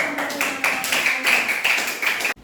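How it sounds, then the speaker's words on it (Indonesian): A classroom of students claps after a classmate's presentation, brisk uneven clapping from a small group that cuts off abruptly at the end, with voices faintly mixed in. "Ya, beri tepuk tangan."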